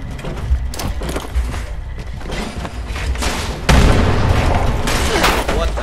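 A grenade goes off in the online game Fallout 76, loud booming blasts and crackling bursts that swell into a heavier, sustained rumble halfway through, with a voice talking underneath.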